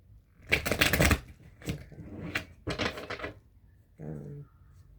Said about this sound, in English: Do a prayer in my head while I'm shuffling.